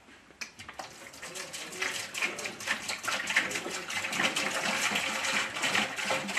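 A gallon of 7% hydrogen peroxide pours steadily into a water treatment tank, a continuous splashing liquid rush that builds in loudness and stays close and alone.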